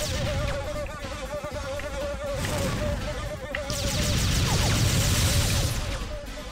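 Insects buzzing in Timesplitters 2, a steady close drone running through the whole stretch alongside game music and shifting effects, swelling louder in the second half.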